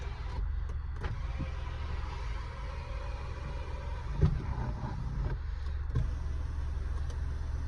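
An electric panoramic sunroof on a 2021 Hyundai Creta 1.5 SX(O) diesel automatic, a low steady motor whir running inside the cabin with a few soft clicks and thumps.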